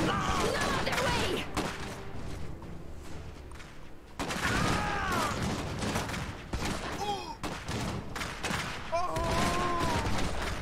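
Gunfire in the Iron Harvest strategy game, a dense crackling fusillade of shots with dull thuds running through the scene, loud and continuous under bursts of voices and game effects.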